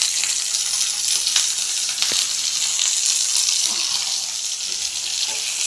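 Tomato hits hot oil with ginger, garlic, green chilli and turmeric spice paste, giving a steady, close, hissing sizzle that continues evenly throughout with no talk.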